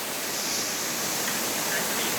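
A tall waterfall at its mountain source along a forest stream gives a steady, dense rushing roar that is close and continuous, with no clear voices over it.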